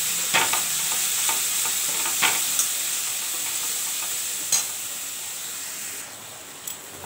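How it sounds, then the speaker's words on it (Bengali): Shrimp and bitter gourd curry with salt and turmeric fries in a pan, a strong continuous sizzle with occasional spoon scrapes and taps as it is stirred, close and steady. "হলুদ দিয়ে দিচ্ছি, এবার ভালো করে নাড়ব।"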